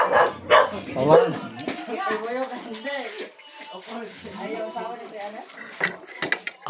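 Dogs bark in short sharp bursts at a home where a meal is under way, mixed with clattering dishes and utensils while people talk over the barking throughout.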